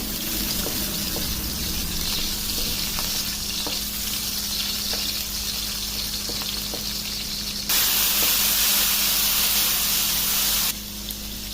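Chopped garlic and onion sauté in hot oil for a chicken and bitter gourd dish, giving a steady, close sizzling hiss that jumps louder for a few seconds near the end before settling back.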